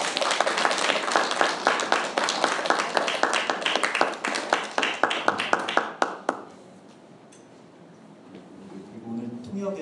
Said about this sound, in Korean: 이 두 분을 박수로